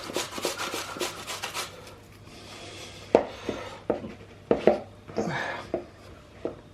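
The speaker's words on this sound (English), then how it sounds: "get my cucumber and grate it" A cucumber rubbed by hand against a grater, giving scraping strokes with several sharper knocks and clatters in the middle and later part, close and fairly loud.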